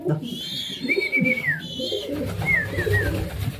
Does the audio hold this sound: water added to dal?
no